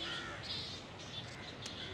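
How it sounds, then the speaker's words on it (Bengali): Crows cawing outdoors on a coastal city street, a few faint, harsh calls scattered over a quiet ambient background. "পরিবেশটা কিন্তু অনেক সুন্দর, পাখির কিচিরমিচির আওয়াজ"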